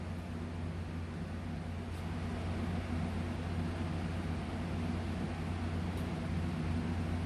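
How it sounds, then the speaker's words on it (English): A steady, even whir of an electric fan runs throughout, a constant low hum with airy noise on top, unchanging and fairly close. "y'all might hear that fan in the background"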